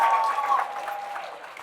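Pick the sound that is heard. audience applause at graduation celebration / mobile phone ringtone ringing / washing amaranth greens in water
audience applause at graduation celebration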